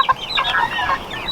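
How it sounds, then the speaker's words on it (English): A rooster clucks in a quick run of short, throaty calls, close by and fairly clear, with no talking. "That's a beautiful rooster you got there."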